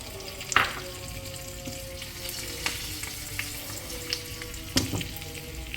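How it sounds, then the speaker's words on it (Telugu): Curry leaves, asafoetida, dried red chillies, mustard seeds and cumin sizzle in hot oil for a tempering, giving a steady close crackle with a few sharper pops and no talking. "కొద్దిగా వేయించాక కరివేపాకు, ఇంగువ, ఎండుమిర్చి, ఆవాలు, జీలకర్ర, పోపు దినుసులు వేసుకొని"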